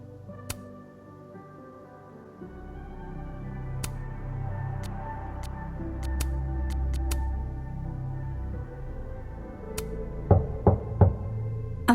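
Knocking on a door in the video game Life is Strange: Double Exposure, a short burst of several sharp raps near the end over a low ambient game backdrop.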